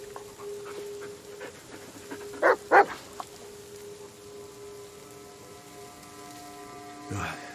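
A dog in the horror game Blair Witch gives two sharp barks close by, followed later by a softer sound, with rain-like hiss throughout.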